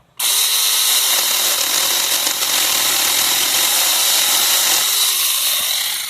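A power saw or chainsaw cuts a fruit-tree stump nearly flush with the ground during orchard pruning, running loud and steady for about six seconds with a slight change in pitch partway through.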